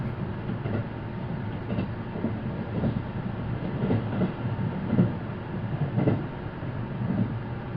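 Inside the Rapid Ohayo Shin'etsu train, a steady low rumble of the moving carriage carries faint rhythmic wheel clicks over rail joints, continuous and moderately loud with no voices.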